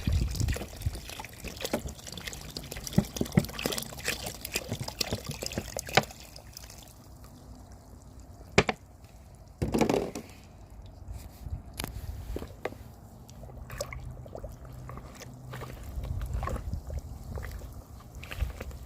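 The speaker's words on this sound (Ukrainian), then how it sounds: "Ось так воно булькає." Liquid bubbling and gurgling inside a bottle while a suspension for almond tree winter care is mixed, with bursts of sloshing and trickling, a louder gush near the middle, and no talk over it.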